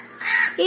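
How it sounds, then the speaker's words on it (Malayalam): A single harsh crow caw sounds close by, a short rasping call that rises and ends abruptly. "എല്ലാ വീഡിയോയിലും വന്ന് ശല്യം ചെയ്യുന്ന കാക്കയാണ് കേട്ടോ ഈ ഇരിക്കുന്ന മഹാനായ കാക്ക"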